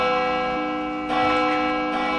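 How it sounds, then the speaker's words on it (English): A bell rings out with steady sustained harmonic tones, struck again partway through so a fresh clang swells over the lingering ring, loud and alone with no voices. "Let me get that bell sound in there."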